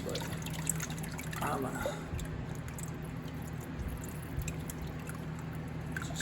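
Oil trickles and drips steadily from a Grizzly G0824 lathe during an oil change, a continuous close liquid dribble with someone talking over it.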